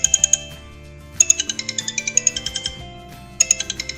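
A custom iPhone ringtone plays a bright, chiming electronic melody in quick repeated bursts of bell-like notes, separated by short pauses, with no voices.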